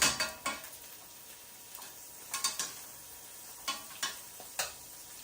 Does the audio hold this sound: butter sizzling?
yes